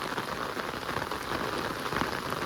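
Rain falling steadily on surfaces, a close, even patter of many drops that continues without pause and with no talking.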